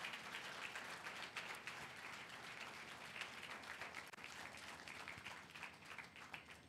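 A church congregation breaks into sustained applause during a sermon, a distant, faint wash of many hands clapping continuously throughout.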